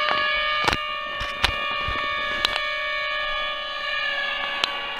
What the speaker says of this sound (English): Tornado siren goes off